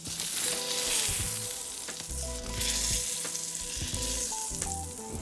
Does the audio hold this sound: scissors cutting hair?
no